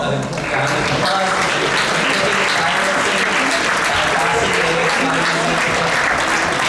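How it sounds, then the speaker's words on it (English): Festival audience applauds warmly for the cooks, a dense continuous wash of clapping that holds steady for several seconds, with faint voices beneath. "please give them all a round of applause"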